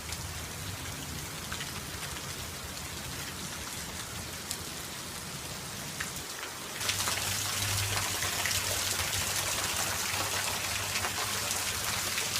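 Steady rain falls during a thunderstorm, a dense hiss of drops that grows noticeably heavier and louder partway through and then holds.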